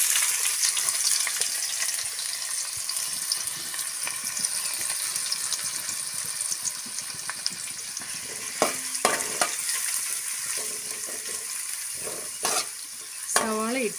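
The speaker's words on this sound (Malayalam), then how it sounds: "അപ്പോൾ അതിലേക്ക് നമ്മൾ അരിഞ്ഞു വെച്ച് സവാള ഇട്ട് കൊടുക്കാം" Chopped onion fries with cumin in a pan, a steady close hiss of sizzling oil running throughout, with a few stirring scrapes and clatters near the end.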